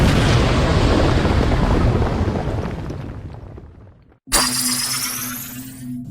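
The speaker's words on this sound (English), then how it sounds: "There was supposed to be an earth-shattering kaboom." An earth-shattering kaboom sound effect: a loud, roaring explosion with crackling debris that slowly fades and thins out. It then cuts sharply into a different, steadier tone.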